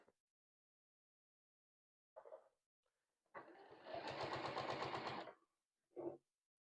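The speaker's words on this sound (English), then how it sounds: "And start sewing on the end again." A sewing machine stitching an Advent calendar fabric panel, a few short bursts then a sustained rapid mechanical run of about two seconds, close and clear with quiet gaps between.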